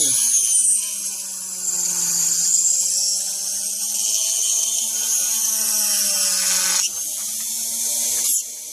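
A rotary tool bit drills into a plastic 1/32 scale dirt modified model body, giving a close, steady high-pitched whine that drops in pitch under load and breaks off briefly near the end.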